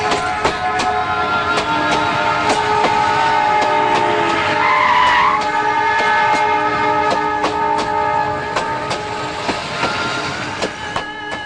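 A train passes on a railway track beside the Yeshwanthpur bus stand area, loud and close, with sustained horn tones over a steady rumble and rhythmic clacking of wheels that fades slightly toward the end.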